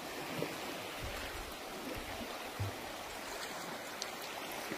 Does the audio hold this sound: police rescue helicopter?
no